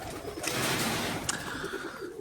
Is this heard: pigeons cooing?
yes